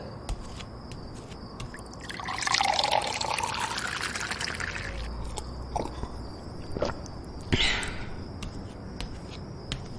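Water is poured into a container for a drink, a sustained splashing pour followed by a few short wet clicks and gulps, close and fairly quiet with no talking.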